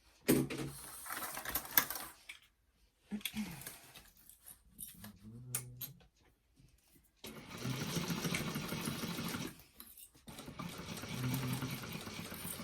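A sewing machine stitches a vinyl-and-lining bag seam in two bursts, a short run near the start and a longer run in the latter half, separated by quiet pauses and light handling.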